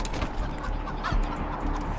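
Chickens cluck in the video game Wasteland 3, a steady close stream of soft clucking over a low, continuous game background with no talking.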